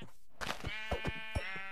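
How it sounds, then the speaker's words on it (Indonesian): A black sheep in Minecraft bleats in a few short, close, wavering calls, clear and alone with no talk. "Ini domba hitam."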